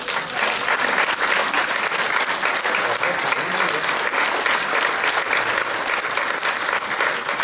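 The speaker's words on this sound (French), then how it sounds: "vous pouvez l'applaudir" An audience applauds an entrepreneur's award at a 2017 New Year's greetings event. Dense, even clapping from a large crowd continues without a break for the whole stretch.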